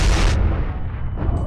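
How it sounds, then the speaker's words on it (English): A grenade exploding in the video game CS:GO, a single loud, deep boom at the start that rumbles and decays over the next second. "Throwing a grenade."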